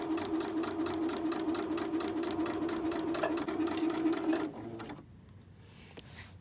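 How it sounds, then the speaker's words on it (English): A sewing machine runs steadily while stitching a pillowcase doll dress, a close, even mechanical whir that stops after about four and a half seconds, followed by quiet fabric handling and a faint click. "Now that I've finished sewing this"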